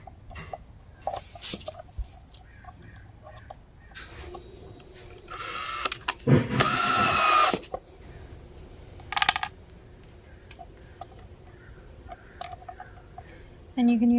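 A drill drives screws to temporarily tack PVC pipe down for a giant 10-foot Christmas star ornament, with a short loud whirring burst near the middle, a brief second burst after, and light handling clatter around it.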